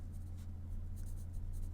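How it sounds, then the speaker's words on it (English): Pen scratching across paper as notes are written by hand, a quiet continuous scribbling with brief strokes and pauses over a low steady hum, no talking. "I need to write that down."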